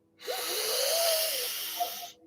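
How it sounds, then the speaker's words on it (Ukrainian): A single deep inhale during a meditation session, a long breathy rush of air lasting about two seconds, close and clear with no talking. "ми з вами робимо глибокий вдох"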